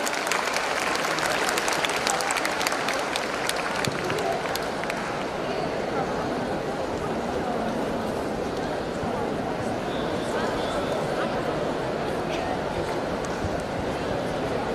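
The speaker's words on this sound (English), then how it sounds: "Guys, please give a big round of applause" An audience at a one-day career enhancement programme breaks into a big round of applause, with sharp close claps at first settling into a steady, full crowd clapping sound mixed with chatter.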